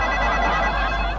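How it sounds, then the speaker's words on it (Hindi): A home telephone rings loudly and continuously with a warbling electronic tone, close by and filling the whole moment. "लो, आ गया फोन वसूली का।"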